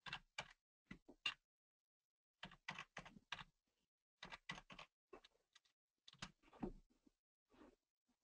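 Keys clatter on a computer keyboard in short, uneven bursts of crisp taps separated by brief pauses, close and alone with no talking.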